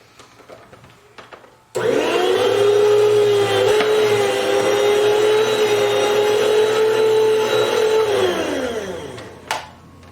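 A meat slicer's electric motor whirs in a steady, loud drone for about six seconds while slicing venison for jerky, then winds down and stops.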